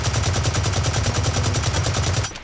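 Rapid automatic gunfire from the Blacklight: Retribution shooter game, a loud, evenly spaced burst of shots hammering for about two seconds before cutting off.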